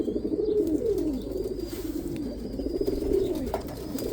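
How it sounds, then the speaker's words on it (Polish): Pigeons cooing in soft, rolling repeated calls, close and fairly loud, continuous throughout with a steady outdoor hum beneath and no talk. "Gołębie obok, kosy sobie robią swoje, gołębie swoje."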